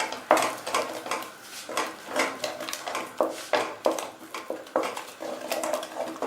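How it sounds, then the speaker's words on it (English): A spoon works through a thick condensed milk mixture in a pan. Rhythmic scraping and knocking strokes repeat about once or twice a second, close and fairly loud, with no voices. "And mix it well. So that it doesn't stick to the pan."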